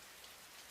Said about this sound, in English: Rain is the least of their worries.